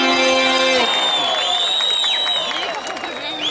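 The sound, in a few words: concert audience applause and cheering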